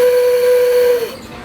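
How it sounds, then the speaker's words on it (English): A Disneyland steam train whistle, tugged by a child, gives one loud, steady, sustained high tone for about a second before cutting off abruptly, leaving a faint hiss behind. "Go on this and make a whistle. Tug it. Make a whistle. Tug hard."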